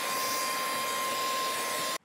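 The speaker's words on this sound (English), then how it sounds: "Let's try with this bare nozzle to see if it can suck this out." A portable cordless car vacuum cleaner with a bare nozzle sucks up seeds, giving a steady loud whine with a constant tone that runs close and alone for about two seconds before cutting off abruptly.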